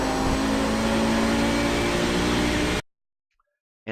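An Audi 90 GTO race car engine in iRacing at Mosport, a loud, steady engine drone under throttle that cuts off abruptly into near silence before returning faintly at the end.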